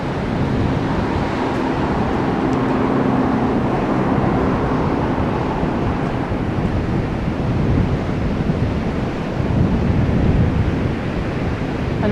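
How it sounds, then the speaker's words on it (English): Sea waves wash against a promenade under strong wind, a dense, continuous roar of surf and buffeting wind noise filling the whole stretch, loud and close, with no voices. "I'm hoping you can hear me and the sound of the sea"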